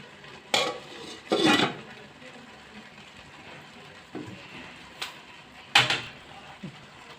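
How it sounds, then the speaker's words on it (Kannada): Metal lid clanking onto a pot of payasa in a home kitchen, a few sharp clattering knocks spaced apart with quieter handling in between. "ಈಗ ಇದು ಸ್ವಲ್ಪ ಬಾಯ್ಲ್ ಆಗಲಿ, ಅಲ್ಲಿವರೆಗೂ ಲಿಡ್ ಕ್ಲೋಸ್ ಮಾಡ್ತೀನಿ"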